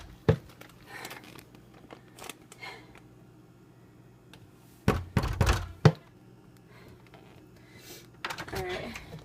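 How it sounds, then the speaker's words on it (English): Someone kicks a door several times outdoors while collecting tree sap, giving a few dull, heavy thumps spread across the clip with quieter handling noises between. "I'm going to kick this door so that they'll know to open it."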